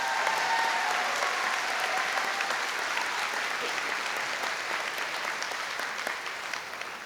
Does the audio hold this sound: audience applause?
yes